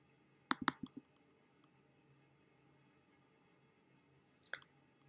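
Computer mouse clicking while selecting a word in an academic search tool: a quick cluster of three or four close, crisp clicks, then quiet room tone, and another brief pair of clicks near the end.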